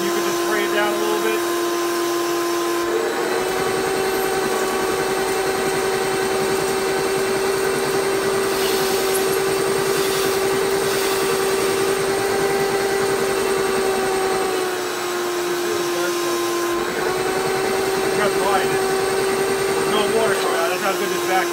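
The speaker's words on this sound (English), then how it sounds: "Oh, the vacuum is actually sucking the mist in." A homemade DIY carpet extractor vacuum runs with a loud, steady motor whine and airy suction roar, briefly dipping in pitch near the end before resuming, with a person talking over it.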